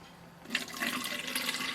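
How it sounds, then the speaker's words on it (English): Water poured to fill a container for watering Lepanthes orchids, a short close splashing rush that swells after a brief quiet start. "So I'll use this water. I'll just fill it up."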